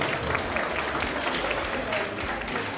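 Applause from a crowd fills the room, steady clapping with voices mixed in underneath.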